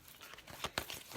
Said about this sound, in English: And I can shuffle these.